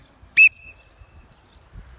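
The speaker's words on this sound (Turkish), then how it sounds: "Düdüğü beklemiyorsun." A coach gives one short, sharp blast on a whistle during football dribbling and coordination training, with faint background noise around it.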